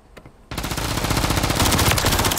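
Sustained automatic gunfire from a shooter video game erupts after a brief quiet start, a dense rapid burst of shots that continues loud and unbroken to the end.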